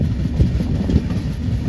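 The East Coast Express (train 18046, Hyderabad to Shalimar) running on the East Coast rail line, heard from on board as a steady, close, low rumble with faint clickety-clack from the wheels and no talk.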